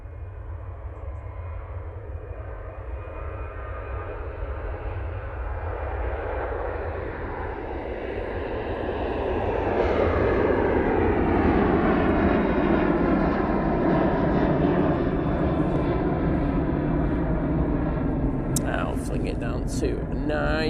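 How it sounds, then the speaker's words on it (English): A Ryanair Boeing 737-800 departs Manchester Airport, its engine roar building from a distant rumble to a loud, sustained broadband blast that lingers, with people talking now and then nearby. "Next departure, Ryanair 737-800."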